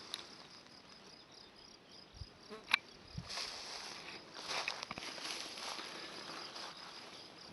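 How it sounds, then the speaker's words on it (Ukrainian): A honey bee swarm inside a bee trap near a lone pine among aspens and birches, giving a faint, continuous buzzing hum outdoors with a few soft knocks and rustles. "І ось він рій."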